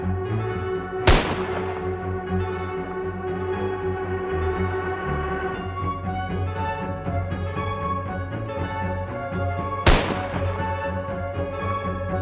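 Two sharp, loud gunshots ring out several seconds apart during a wild hog hunt over a steady droning background, each a sudden crack that quickly fades.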